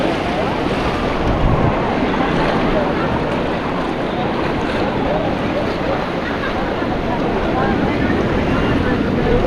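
Strong current of a stream rushing in Siargao, a loud, steady broadband wash of water that holds constant throughout with wind buffeting the microphone.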